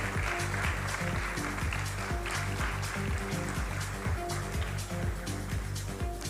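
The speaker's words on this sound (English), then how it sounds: "Please give him a big round of applause everyone." Audience at a cardiology conference claps for an honoured doctor, a continuous, even roar of many hands filling the room, steady and moderately loud with no voices rising above it.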